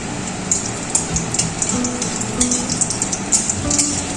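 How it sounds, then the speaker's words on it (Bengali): Whole bay leaf, cardamom, cinnamon, cumin and dried chillies sizzling in hot oil left from frying pointed gourd, a steady close crackle with scattered sharp pops and no talking. "পটল ভাজা তেলের মধ্যে ফোড়নে দিয়ে দিচ্ছি তেজপাতা, এলাচ, দারুচিনি, গোটা সাদা জিরে আর শুকনো লঙ্কা।"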